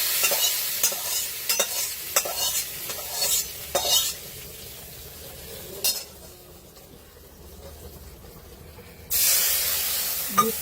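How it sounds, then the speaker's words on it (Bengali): Hot spice tempering poured into shukto, a Bengali vegetable dish, giving a loud, hissing sizzle with stirring and utensil clinks, then dying down to a quieter stretch before a fresh burst of hiss near the end. "ফোড়নটা আমি ঢেলেই দিচ্ছি।"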